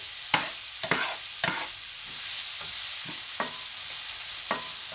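Vegetables for a salt cod stuffed-vegetable dish sauté lightly in a pan under a soft, even sizzle. Regular scraping strokes of a spoon repeat roughly every half second, close and fairly loud, with no voices.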